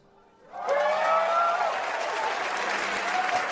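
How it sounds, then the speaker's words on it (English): A crowd bursts into applause and cheering after a quiet start, the clapping rising quickly and then holding steady, loud and dense. "It's not really the biggest crowd pop, is it?"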